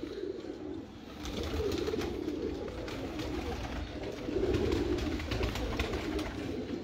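Pigeons coo softly and continuously, low throaty calls rising and falling over a steady background hum, with no talking.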